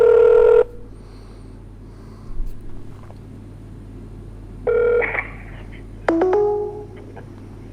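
A telephone ring tone sounds in short electronic bursts with pauses between, thin and clear over a quiet background hum.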